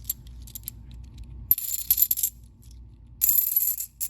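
Half dollar coins, some of them 90% silver, clatter onto a surface in two short bursts, bright metallic ringing, close up, with a quiet pause between drops.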